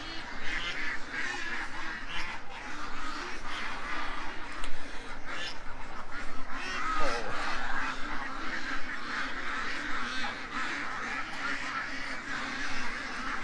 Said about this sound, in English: Whole bunch of upset ducks.